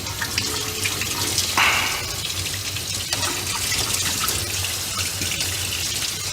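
Water runs steadily from a tap into a pot for cooking sausages during a sausage-making class, a continuous close splashing and gurgling with a low hum underneath and no talk.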